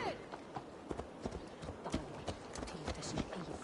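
Horse hooves clip-clop in a steady walking rhythm in a video game, faint and under a voice that talks over them throughout.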